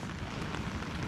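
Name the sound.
rain falling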